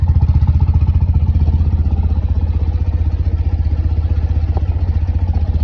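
A BMW R80GS flat-twin motorcycle engine idles close by with an even, throbbing pulse, a steady low chug that holds the same rhythm throughout.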